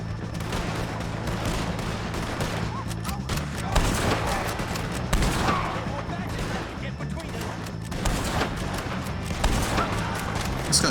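Gunfire crackles through a Red Dead Redemption 2 firefight against O'Driscoll gang members, with repeated sharp shots and booms at an irregular pace over a dense background of game sound, while someone talks intermittently.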